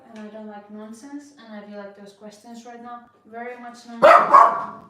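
A dog barks indoors in a sudden, loud, close burst near the end, right after steady talking.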